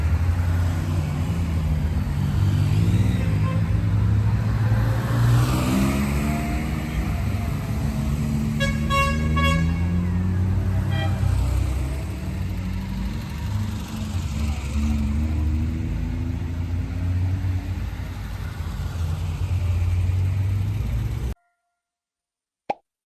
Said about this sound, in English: somehow there was a vintage car rally happening in the street